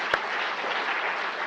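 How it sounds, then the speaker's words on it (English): Audience at a health talk on caring for kidneys applauds, a steady close wash of many hands clapping, opening with one sharp knock before the even applause carries through the brief stretch. "let's give them a round of applause,"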